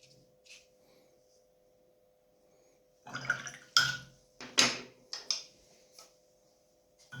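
Brush dipped and swished in water while mixing watercolour paint for a dark sunset scene: a few short, close, quiet splashy swishes in quick succession after a near-silent start, with no talking.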